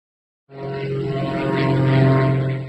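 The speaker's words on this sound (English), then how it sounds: "An Aviat S-111B was practicing aerobatic maneuvers near Whiffordale Airport." An Aviat S-111B light plane flying aerobatic maneuvers near an airport, its engine drone rising suddenly out of silence and holding loud and steady with a broad rushing roar.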